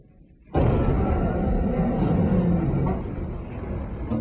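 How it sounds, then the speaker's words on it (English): A car crashing into a parked car at 30 mph: a sudden heavy impact bursts in and stretches into a long, loud, rumbling crash, slowed down and sustained for several seconds. "This is the sound of a car crashing into a parked car at 30 miles an hour."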